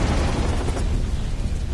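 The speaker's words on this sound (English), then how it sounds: "These guys see that green gas explosion and instantly think, let's go in there." A green gas explosion from an animated Teenage Mutant Ninja Turtles film erupts as a loud, dense burst of rumbling noise that fills the short moment with no speech.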